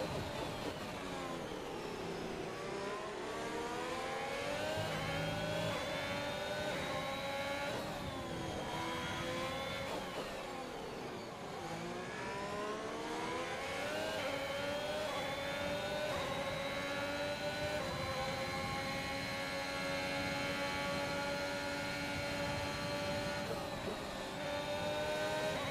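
Race cars in a TGP series event howl through the final lap, engines climbing and dropping in pitch through gear changes and corners, a continuous loud drone of several cars lasting the whole stretch.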